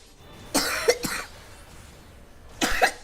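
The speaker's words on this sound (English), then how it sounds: "I hate this cough." Close, loud coughs come in two groups: a pair of harsh coughs with a throat-clearing edge, then a pause and a final cough, with no speech.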